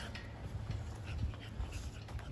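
American bully dogs in a kennel pant quickly and steadily at close range, a fast rough rhythm under a faint hiss, with no one speaking.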